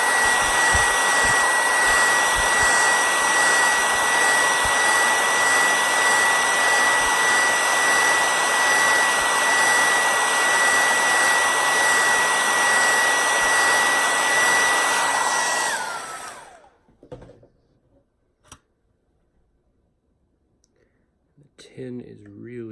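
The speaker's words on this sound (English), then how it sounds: "So I'm going to do one more round with the hair dryer and then do the real label." A hair dryer blows steadily on high, heating a pipe tobacco tin to loosen its label, with a loud continuous whine and rush for about sixteen seconds before cutting off, followed by faint clicks and handling noises.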